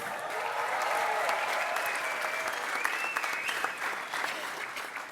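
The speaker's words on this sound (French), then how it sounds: "je lui dirai que vous l'avez applaudi" An audience applauds, a steady wash of clapping that swells and gradually thins, with a few voices mixed in.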